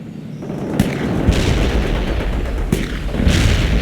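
Video game firefight against insurgents: repeated loud gunshots and booming artillery-like blasts, with sharp cracks standing out near the start and again around the middle, over a dense, continuous battle rumble.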